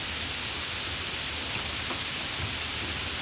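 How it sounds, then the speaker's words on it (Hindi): Wind and rain as an effect in a story about birds' nests shaking in a storm, a steady, faint wash of broadband hiss with no distinct drops or gusts and no voices. "लेकिन तेज हवा और बारिश से उनके घोंसले भी हिलने लगे थे"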